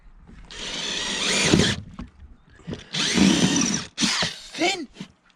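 A power drill whines in two long bursts with short gaps, loud and close, drilling on a boat while fitting an inner forestay, followed by a few quick stuttering pulses and a faint murmur of voices.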